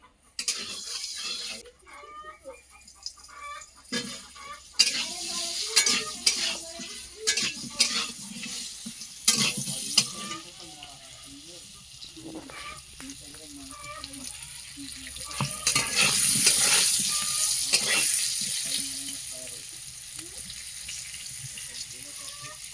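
Oil crackles and hisses steadily as potatoes with salt and turmeric fry in a pan, with scraping stirs and clinks throughout; the sizzle swells louder near the end.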